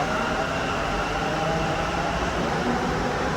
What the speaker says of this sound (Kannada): ನೋಡಿ ಈಗ ಬಂದಿದ್ದೀವಿ ಇಲ್ಲಿ ಮೆಟ್ರೋ ಸ್ಟೇಷನ್ಗೆ